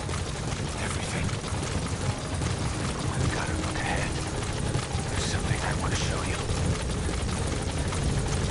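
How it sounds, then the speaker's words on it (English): A helicopter arrives in the video game Metal Gear Solid V: The Phantom Pain, its rotors making a loud, continuous roaring wash that barely changes over several seconds. "Come on, Chopper."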